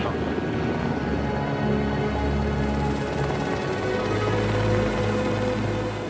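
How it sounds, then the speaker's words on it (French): A helicopter flies close by near Mont Rowena on Tahiti, its rotor and engine producing a loud, continuous whirring drone that holds steady throughout with no voices. "Le botaniste rappelle l'hélicoptère."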